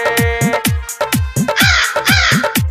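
A crow caws loudly and close by, giving a quick series of harsh, repeated calls over a background of sustained musical tones.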